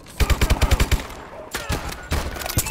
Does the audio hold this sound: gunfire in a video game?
yes